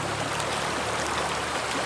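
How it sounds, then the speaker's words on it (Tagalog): A strong river current flowing, a steady, dense rush of water with no pauses, close and continuous throughout the short stretch. "Malakas naman yung agos."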